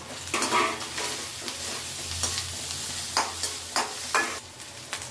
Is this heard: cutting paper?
no